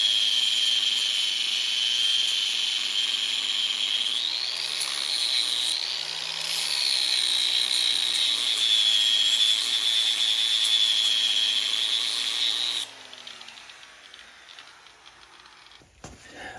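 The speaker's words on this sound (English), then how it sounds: "we've been grinding a lot, taking several thousandths off there and several thousandths off there" A power grinder whines steadily as it takes metal off a brake caliper on a Henry J Gasser build, its pitch dipping and recovering under load for about thirteen seconds before spinning down, with no talk.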